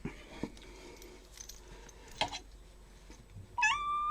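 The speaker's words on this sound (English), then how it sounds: "Looks like my cat has decided to come say hi to me." A house cat gives a single short, fairly close meow near the end, after a few faint clicks and rustles in an otherwise quiet room.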